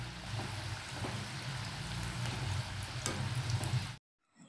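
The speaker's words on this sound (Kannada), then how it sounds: "ಮೀಡಿಯಂ ಫ್ಲೇಮಲ್ಲಿ ಇದನ್ನು ಫ್ರೈ ಮಾಡೋದ್ರಿಂದ ತುಂಬ ಕ್ರಿಸ್ಪಿ ಆಗಿರುತ್ತೆ." Potato samosa rolls fry in oil over a medium flame, giving a steady, close bubbling sizzle with soft crackles that runs for about four seconds and then cuts off to near silence.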